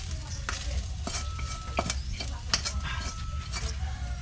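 Fried rice stirred and frying in a pan: spatula scrapes and stirs come in irregular bursts over a steady close sizzle, with no talk.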